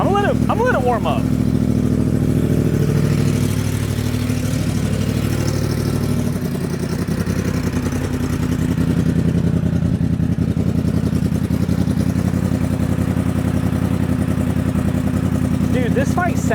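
A Yamaha MT-10 motorcycle with a Yoshimura aftermarket exhaust idles and rumbles loudly up close with a deep, throaty exhaust note, steady throughout, while a person talks over it.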